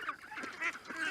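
Ducks call repeatedly with honking, goose-like cries on a livestock plot overgrown with ragweed and grasses, moderately close and continuous for about a second with no talk.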